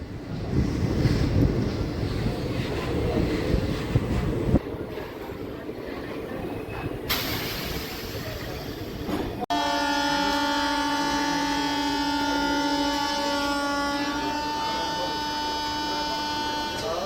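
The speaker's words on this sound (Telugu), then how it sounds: "స్టేషన్లోకి అయితే ఎంటర్ అవుతుంది మన ట్రైను" A DEMU train entering the small Krishnamma Kona railway station, heard from on board as rumbling wind and rail noise that gives way to a steady, bright, squealing tonal whine as it slows, loud and close.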